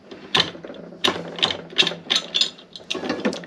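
A ratchet wrench loosens a nut on a B and G pump (100 series) coupler, giving a series of sharp metallic clicking bursts in an uneven rhythm, close and clear.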